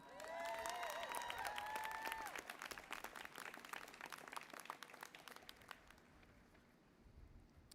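Applause and cheering from a commencement crowd for occupational therapy graduates, heard faintly and at a distance, with whistles early on, then dense clapping that slowly thins out.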